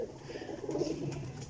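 A large desi pigeon, a pipla type, gives a short, low cooing burst close by, soft and throaty, with no voices over it.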